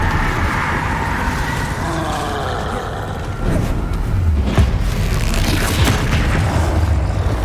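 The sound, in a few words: Descendo spell cast in Hogwarts Legacy video game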